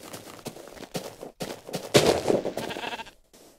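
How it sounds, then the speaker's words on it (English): Sheep bleats from the video game Minecraft ring out in several loud, overlapping bursts over a busy game soundscape, with short gaps of near silence. "Oh, Mr. Sheep."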